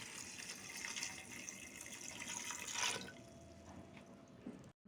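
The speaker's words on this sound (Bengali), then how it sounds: "দিয়ে দিচ্ছি পরিমাণ মতো পানি" Water is poured into a pressure cooker in a quiet, steady stream that stops after about three seconds.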